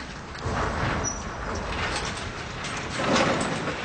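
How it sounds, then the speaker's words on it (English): A door is pulled down with a continuous mechanical rolling and scraping rumble that swells and fades over a few seconds, fairly close, with no one speaking. "Try pulling the door down now."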